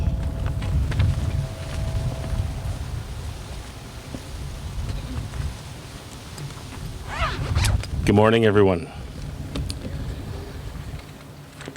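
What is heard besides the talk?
wind blowing at outdoor ceremony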